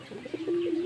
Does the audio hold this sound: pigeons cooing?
yes